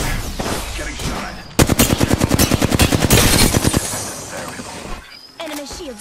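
Automatic gunfire in the Apex Legends video game, a rapid burst of loud repeated shots that runs for about two seconds, with other game sounds before and after.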